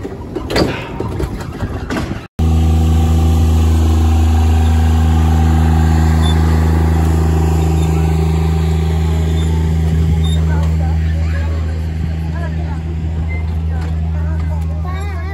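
Motor vehicle engine running hard at full throttle while overtaking, a loud steady drone with strong low harmonics that holds for the whole stretch after a brief cut, with faint voices talking over it.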